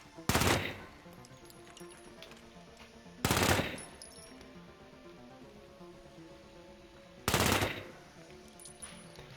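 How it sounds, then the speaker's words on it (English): Weapon fire in the video game The Finals comes in three short, loud bursts spaced a few seconds apart, each a quick rattling volley over a low steady background hum. "Sound of the weapon is good."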